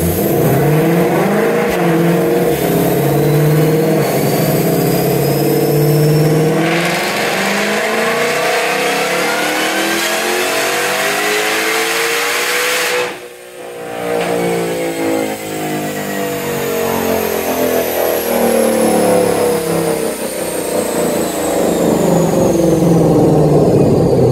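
Supercharged car engine revving hard at about half power, idling between pulls, loud and continuous with rising and falling rev sweeps and a brief dip midway, no talk.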